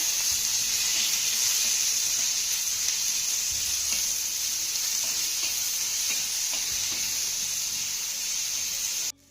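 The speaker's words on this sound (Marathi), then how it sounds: "हा कांदा आपल्याला डार्क चॉकलेटी रंगावरती परतून घ्यायचा आहे" Sliced onion sautés in oil on a griddle, browning toward a dark chocolate colour, with a steady, close, even sizzle and faint stirring that hold for the whole stretch before cutting off abruptly at the end.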